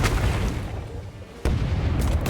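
Ship cannons fire in the naval combat of the video game Rogue Waters, a loud booming blast landing midway through over a steady rumble of battle noise.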